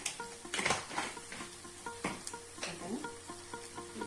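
Masala brinjal curry with garam masala being stirred in a pan: soft scraping and clinking of a spoon against metal in irregular strokes, over a low sizzle and faint background hum, fairly quiet and close.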